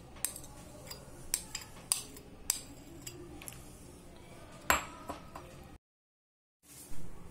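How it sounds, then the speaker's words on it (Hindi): Nankhatai ingredients being mixed in a bowl: repeated light metallic clinks and taps of a spoon against the bowl, close and irregular, then a brief silence before a final rustle. "इसमें ये सारा डाल देंगे, अब इसे हम मिक्स करेंगे।"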